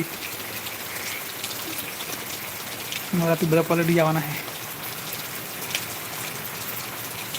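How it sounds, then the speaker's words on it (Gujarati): Steady rain falls throughout as a broad hiss in Deesa, Gujarat, with a person speaking briefly over it near the middle. "તમે જોઈ શકો છો બે દિવસથી આવો વરસાદ પડે છે"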